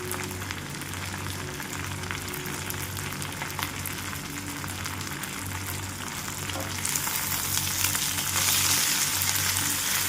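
Fenugreek leaves frying in hot oil for a pickle make a constant close crackling sizzle that grows louder and brighter toward the end, with no talking.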